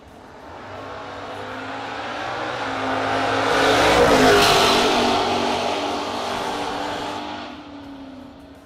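Junior dragsters roar past at a drag strip, the engine noise building steadily, peaking loudly as they pass close, then fading away.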